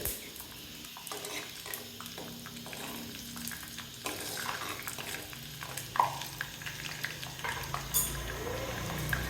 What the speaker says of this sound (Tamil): ஒரு 1/4 டீஸ்பூன் அளவுக்கு வெந்தயம் தாளிச்சிட்டு